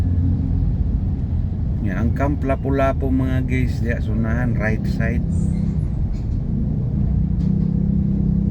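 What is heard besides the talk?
city road traffic on Trans Central Highway, Cebu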